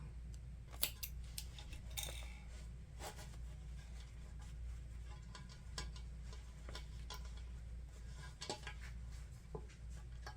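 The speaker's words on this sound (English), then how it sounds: "Add a couple snips into our gusset curve." Scissors snip into the curved gusset of a fabric messenger bag, giving a run of small, sharp cuts at an irregular pace over a steady low hum, close and fairly quiet.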